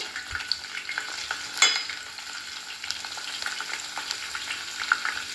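Small cut gooseberry pieces fry in oil for homemade hair oil, a soft continuous sizzle with light stirring scrapes and a few clinks of a utensil, close and steady throughout.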